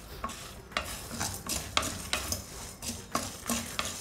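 Lentils and rice dry roasting in a pan, with repeated scraping stirs of a spoon at a steady rhythm over a soft background crackle, close and moderately loud.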